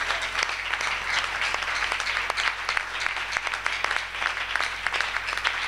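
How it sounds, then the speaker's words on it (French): A church congregation applauding together, dense continuous clapping that stays loud and even throughout without pause. "Acclamons très fort le Seigneur Jésus"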